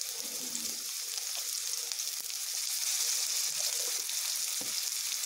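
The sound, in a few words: potatoes frying in oil with salt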